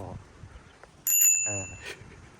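A bicycle bell rings once with a bright metallic brrring that holds for under a second, heard in a dry, hot-season rural setting in Bo Kluea, Nan, Thailand, amid outdoor background noise.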